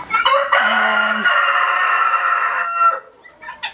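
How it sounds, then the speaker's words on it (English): Several chickens and guinea fowl in a pen cluck and crow loudly nearby, with a rooster's call standing out over a busy mix of poultry noise. "This is the pen for chickens and guinea fowls."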